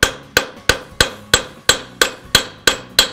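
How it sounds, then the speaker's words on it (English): Ten heavy jeweler's sledgehammer blows strike metal while forging a twisted bracelet, in a steady, even rhythm, each a loud ringing clang that decays quickly before the next. "we're going to forge it, but we're going to forge right next to the edge"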